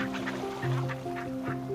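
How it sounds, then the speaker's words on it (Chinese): Several of the neighbour's ducks quack together in a near, busy chorus, their calls overlapping in a steady, insistent clamour with no talk over it. "这是邻居家的鸭子，它们永远喜欢抱团，就连表达抗议也是众口一致"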